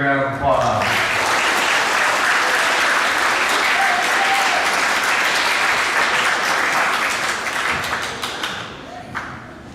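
A school auditorium crowd gives sustained applause for middle school award recipients at an awards assembly, dense steady clapping that swells and holds for several seconds before thinning out near the end.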